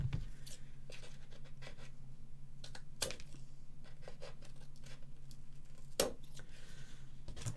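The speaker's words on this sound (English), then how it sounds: "we can trim off those ends with a good stiff pair of scissors." Stiff scissors trim the ends of paper tags for a Stamperia Provence folio, giving a few faint, sharp snips amid quiet scratchy paper rustle, close by with no talk.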